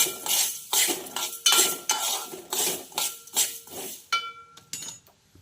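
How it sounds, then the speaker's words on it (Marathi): Spice masala for amla and green chilli pickle dry-roasting in a pan, a metal spoon scraping and clinking against the pan in steady repeated strokes, close and fairly loud. "छानपैकी असा हलकासा आपण मसाला भाजून घेऊया"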